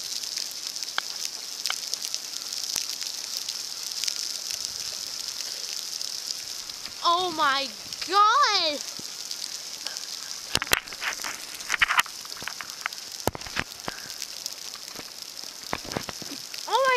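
Steady broadband hiss of heavy rain pouring throughout, with a person exclaiming in surprise partway through and a few sharp taps on top.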